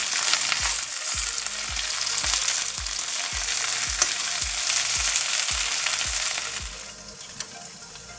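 Okra sizzles loudly in a hot pan while a spatula scrapes and turns it in a regular rhythm of about one stroke per half second, the sizzle easing slightly near the end.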